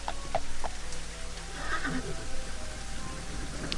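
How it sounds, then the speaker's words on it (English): Rain falling in the video game Daggerfall Unity, a steady hiss of rainfall filling the scene, with a horse-like whinny and faint tones near the start, no voices. "A rainy day here still."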